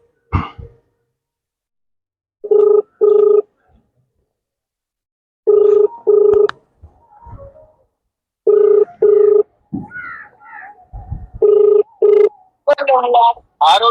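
Telephone ringback tones from an outgoing call, heard as paired bursts repeating at a steady rhythm over the line, with short stretches of quiet between them and someone talking near the end.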